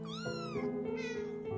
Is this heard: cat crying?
yes